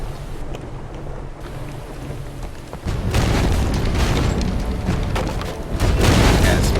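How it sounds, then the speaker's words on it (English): Ship cannons boom in Pirates of the Caribbean Online during a naval battle against a fleeing ship, heavy bursts landing near the start and again around the middle and end over a steady rumbling, rain-like wash of game sound. "Yes, now it's actually firing at me."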